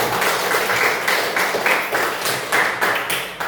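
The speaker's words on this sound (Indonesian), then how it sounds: "Oke, tepuk tangan untuk Nabila." A classroom group claps in a fairly sparse, uneven rhythm, with individual hand claps standing out as brief loud bursts through the short applause.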